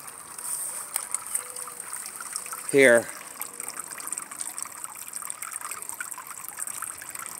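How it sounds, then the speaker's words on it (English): Spring water trickles steadily into a fish pond outdoors, a soft continuous wash heard throughout, with one short spoken word partway in. "the supply of water coming in"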